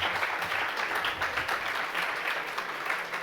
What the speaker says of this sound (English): let's go with a round of applause for our organizer and